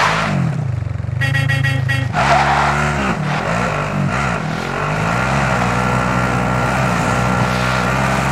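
A car engine in Call of Duty: Warzone on the Caldera map roars loudly and steadily, revving and shifting pitch as the vehicle is driven, with a brief rattling burst near the start.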